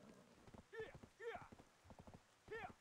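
Horse hooves clip-clop in a video game, with a steady rhythmic trot of hollow knocks that is faint and near. Brief whinny-like tonal calls are heard over the hoofbeats.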